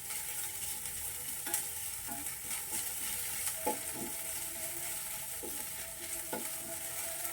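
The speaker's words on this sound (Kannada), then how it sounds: "ನಮ್ಮ ಜಜ್ಜಿರುವಂತಹ ಶುಂಠಿ ಬೆಳ್ಳುಳ್ಳಿ ಹಾಕೊತೀನಿ. ಈ ಸೌಂಡ್ ಬೇಜಾನ್ ಬರುತ್ತೆ ಗುರು ಫೋನಲ್ಲಿ." Crushed ginger and garlic sizzle steadily in a hot pan, a constant hiss with scattered crackles and scraping stirs, close and alone without voices.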